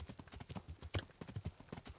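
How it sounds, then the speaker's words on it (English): Hoofbeats of a galloping horse in the medieval video game Kingdom Come: Deliverance, a quick, steady clip-clop rhythm that is close but quiet, heard alone. "Then again, you hear a horse galloping toward you."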